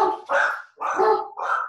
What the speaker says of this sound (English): say hello to my dogs